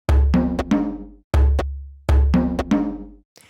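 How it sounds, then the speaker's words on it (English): African djembe hand drum with a goat-skin head played by hand, giving deep booming bass strikes mixed with sharp ringing slaps in a loose rhythmic pattern of three short phrases, close and loud with no voices. "So let's start with a djembe"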